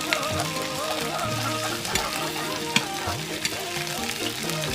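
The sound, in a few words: fish frying in oil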